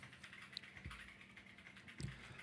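Typing on an 8BitDo mechanical keyboard, a steady run of quick soft key clacks with a couple of heavier strokes, fairly quiet against a faint background hum.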